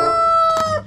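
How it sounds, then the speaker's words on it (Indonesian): A toy rooster gives a single close, loud crow with a high, tonal electronic quality, lasting under a second. "Ini ada ayam berkokok."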